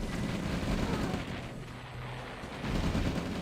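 Dense, continuous gunfire and cannon blasts from medium tanks attacking a wall of pillboxes in the real-time strategy game Red Alert, a loud steady battle din throughout with no voices.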